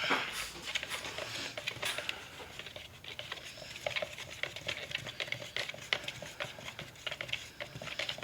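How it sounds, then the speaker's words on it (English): Acrylic pouring paint is stirred in a cup, giving a close, quiet run of rapid scraping and tapping patter that continues unevenly throughout, with no talk. "I like to stir until I can't see any more separated pieces. So I'm gonna stir this"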